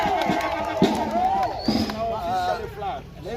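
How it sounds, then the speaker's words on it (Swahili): A church congregation at a Kenyan prayer gathering cheers and ululates, a busy crowd of overlapping voices with rising trilled cries throughout, fairly close and steady in loudness. "Wapi shangwe na vigelegele?"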